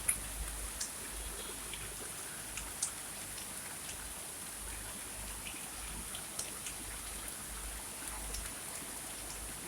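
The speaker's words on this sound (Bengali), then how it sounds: "এখনো ঢালা বৃষ্টি না, হালকা ঝিরিঝিরি পড়তেছে আর কি।" Light drizzling rain on a rooftop during the first rain of the season, a soft steady patter with scattered faint drop ticks, quiet and even throughout with no talking.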